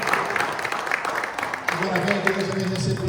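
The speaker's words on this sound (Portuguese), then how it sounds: "Você pode aplaudir o Senhor." A church congregation applauds in a steady, dense wash of clapping that fills the space, with a voice speaking over it toward the end.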